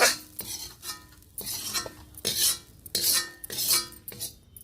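Food being scooped out of a kadhai with a metal utensil, several separate scraping, clinking strokes against the pan with short pauses between, fairly close and moderately loud, with no talking.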